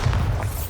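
A Confringo or Bombarda explosion spell goes off in Hogwarts Legacy, a single muffled, low boom that thuds and rumbles briefly without any voice over it.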